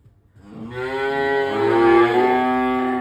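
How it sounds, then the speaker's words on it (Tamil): A cow moos loudly and close, starting after a short quiet moment and holding one long, rising and sustained bellow in a village farm setting. "அடுத்து நம்ம மாடு நம்பர் ஒரு மாடை மட்டும் மேய்ச்சல் விட்டோன்னே சவுண்டு கொடுத்துட்ருக்காரு"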